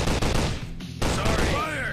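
Gunfire crackles in the mobile shooter Commando FPS Survival Strike, dense loud volleys of shots with a short gap, under game effects and a voice.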